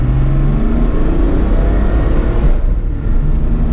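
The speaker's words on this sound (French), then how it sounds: "on accélère, ça c'est chiant parce que moi je suis anti-diesel de base" Loud, close diesel engine of a BMW E30 touring car revving up as it accelerates, a deep rumbling roar that rises steadily with no voices.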